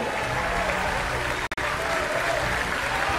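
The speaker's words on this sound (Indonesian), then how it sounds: "Beri tepuk tangan yang mulia untuk Bapak Prabowo Subianto." Sustained crowd applause at a political rally in Indonesia, a declaration of support for the 2024 presidential and vice-presidential candidates, where Prabowo Subianto spoke; the dense clapping is steady and loud, broken by a brief dropout near the middle.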